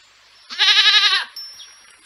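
A goat gives one loud, wavering bleat lasting under a second, close and alone, followed by a quieter tail of sound.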